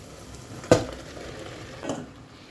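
Zucchini fries in a spiced masala in a pan under a faint, steady sizzle, broken by two short scrapes of a spoon against the pan, close by and with no voices.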